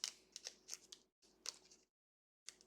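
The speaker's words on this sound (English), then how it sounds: "I would rather use these scissors than anything else" Scissors snip open a Weiss Schwarz Attack on Titan trading card booster pack in quick, crisp, close cuts, a cluster of snips, a pause, another run and a final snip, faint and without talk.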